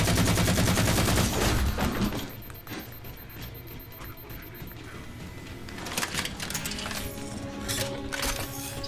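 Carbine rifle fire in Halo 4, heard as a loud burst of rapid shots at the start that settles into quieter, scattered shots and metallic clinks amid other game sounds.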